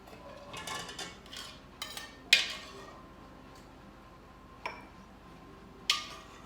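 A metal pot of French onion soup tilted and scraped with a ladle, giving several sharp clinks and scrapes spread across the stretch, loud and close, with short quieter gaps between them.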